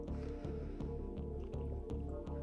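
Water drips and squishes against wet clay on a spinning pottery wheel, repeating in a steady rhythmic cycle with each turn, close and moderately loud, without talking.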